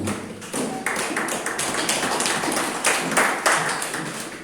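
A congregation claps in an evangelical church in Guaporé, Rio Grande do Sul, Brazil, with dense, rhythmic hand claps that stay steady and fairly loud throughout.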